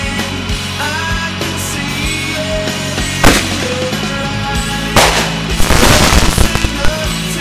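Fireworks go off in a 4th of July backyard celebration, with crackling bursts and sharp pops scattered over a steady background, growing into a dense, loud string of bangs near the end.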